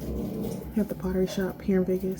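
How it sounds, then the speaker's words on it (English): A dog at home whimpers and yelps in a series of short, high, tonal cries behind someone talking nearby, the cries coming in quick bursts. "you can probably hear my dog in the background"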